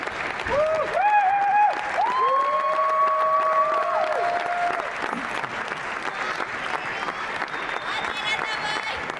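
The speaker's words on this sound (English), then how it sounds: "welcome the couples with a big applause" A crowd at the WDSF World Open Standard semi-final ballroom dance competition applauds the couples taking the floor. Rising and falling tonal whistles ring out over the first few seconds, then steady, full clapping fills the hall.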